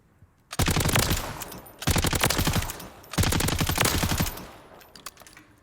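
A light machine gun in Warzone 3 fires three long, loud, rapid automatic bursts, each a dense rattle of shots with brief pauses between them.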